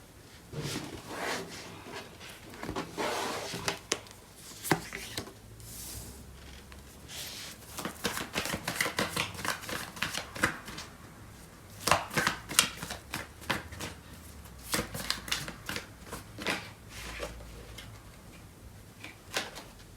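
Tarot cards being shuffled and drawn, a dense run of soft papery flicks, riffles and taps that come in irregular bursts, close and fairly quiet, with no talk.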